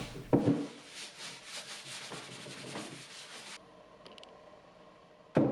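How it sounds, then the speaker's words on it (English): A damp cloth with dish soap and hot water rubs back and forth across a wooden nightstand in soft, repeated wiping strokes, then stops, leaving quiet room noise and a final bump. "After using the damp cloth, I use a dry one to dry it off"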